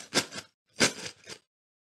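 Metal keys jingling as they are shaken inside a bag, two short bursts of bright clinking separated by a pause, close and fairly quiet.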